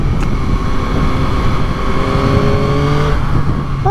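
A Yamaha MT-09 naked motorcycle accelerating hard through quick-shifter gear changes, loud close engine revs climbing in pitch with brief drops at each clutchless shift, heard alone.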